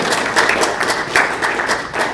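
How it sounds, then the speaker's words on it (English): A small audience claps at an evening public meeting, a brief loose burst of close hand claps with uneven pulses, no voices over it. "let's give him a round of applause."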